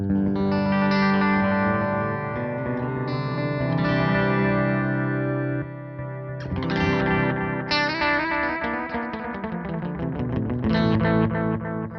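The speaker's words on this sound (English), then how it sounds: "This is the tape echo." Electric guitar played through a tape echo effect with a long delay of roughly 600 to 750 milliseconds, sustained chords and notes smearing into repeats, loud and continuous with no talking.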